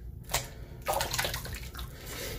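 Water splashing and running while soap is rinsed from a badger-hair shaving brush, heard as a short, close sequence of uneven sloshing and trickling bursts.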